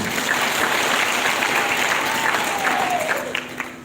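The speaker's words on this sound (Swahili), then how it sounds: "Kwa pigia wote makofi" Audience applause at a county scholarship award ceremony in Bungoma, a steady wash of many hands clapping that holds loud and even before tapering slightly at the end.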